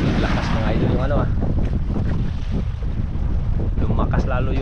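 Strong wind buffets the microphone in heavy, continuous gusts, a loud low roar that drowns out other sounds.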